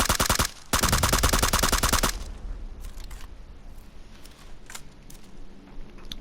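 An M416 rifle with an angled foregrip fires fully automatic in the video game PUBG: a short burst, a brief gap, then a longer rapid burst, followed by quiet ambient game sounds.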